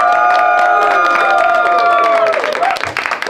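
Comedy club crowd cheers, whoops and applauds for a comedian, starting with sustained shouted cheers and building into a dense burst of close clapping toward the end, loud and lively.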